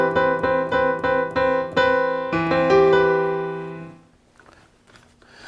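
A piano plays a first inversion seventh chord with a dissonance between the tenor and soprano, struck repeatedly in a quick pulse and then held before fading away, leaving near silence.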